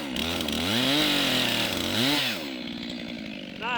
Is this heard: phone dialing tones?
no